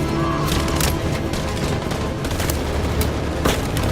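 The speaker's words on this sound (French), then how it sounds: "On peut pas faire des tirs de couverture?" Sustained covering gunfire in the video game Detroit Become Human, a dense, continuous fusillade of rapid shots and booms filling the whole stretch at steady loudness with no talk.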